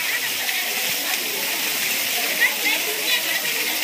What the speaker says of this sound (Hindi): ये झरना जो महेशमति साम्राज्य से आ रहा है